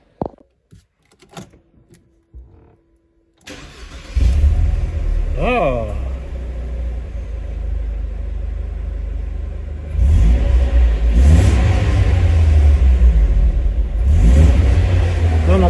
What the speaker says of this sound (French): je vais vous faire écouter le moteur ici.